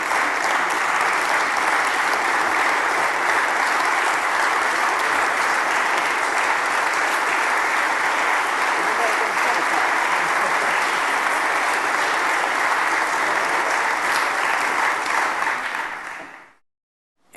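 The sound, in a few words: audience applause in the Texas House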